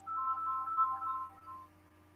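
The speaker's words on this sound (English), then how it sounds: "I gotta answer the phone." A phone ringtone plays a quiet repeating electronic melody of alternating tones for under two seconds, then stops.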